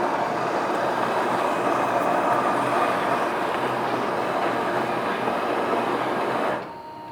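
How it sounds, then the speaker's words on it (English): The built-in grinder of a KitchenAid KF8 fully automatic espresso machine grinds beans with a steady, fairly quiet whirring rasp. It cuts off abruptly near the end. "Again, you got to see how quiet the grinder is."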